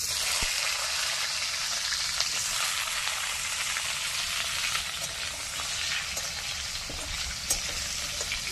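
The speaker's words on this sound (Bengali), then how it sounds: "ফোড়ন ভাজা হয়ে গেছে, দিয়ে দেবো টমেটো।" Tomatoes hit hot oil over fried whole-spice tempering for a Kashmiri aloo dum in a village kitchen. They hiss and sizzle continuously and close-up, with a few sharp spatters popping through.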